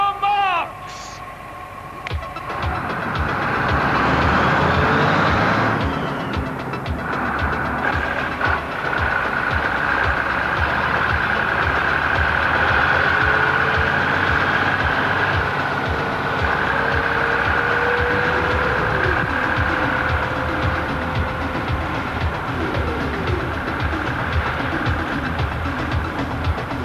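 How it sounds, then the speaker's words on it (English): Two coaches manoeuvring side by side in a televised driving challenge, heavy diesel engines droning and revving near and loud, with intermittent beeping, under steady commentary from people talking throughout. "Brian is doing all the manoeuvring in the right-hand bus."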